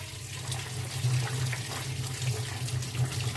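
Water is poured off boiled potatoes and flat beans, a continuous splashing, gurgling stream running steadily at moderate volume with no voices.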